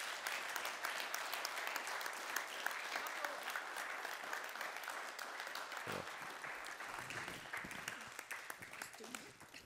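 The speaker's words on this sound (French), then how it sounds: "On peut l'applaudir chaleureusement" Warm applause from a seated audience at a school-group gathering, steady many-handed clapping that holds evenly and thins slightly toward the end, with a few voices murmuring underneath.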